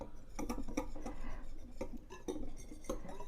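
Popover batter is whisked in a bowl, a quiet run of quick, irregular clinks and taps of a whisk against the bowl, close by, with no talk.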